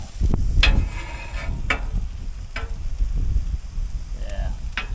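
Shrimp, garlic and butter sizzle on a Traeger Flatrock griddle in a steady close hiss, broken by a few sharp scraping clicks of a spatula.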